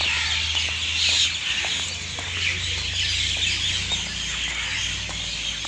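A dense chorus of many birds calls steadily from a tree at an entrance during a morning walk, bright overlapping chirps running throughout over a low constant hum, with no talking.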